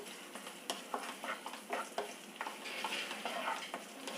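Raisins and dried chillies frying in hot ghee in a home kitchen pan, giving a steady close sizzle with soft stirring scrapes and small pops throughout, no voices.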